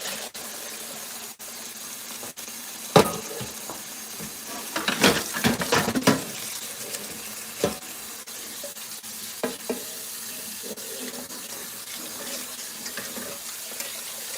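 An item from making Philly cheesesteak is washed under a running tap: a quiet, steady water flow with a burst of splashing and clattering near the middle and a few scattered knocks.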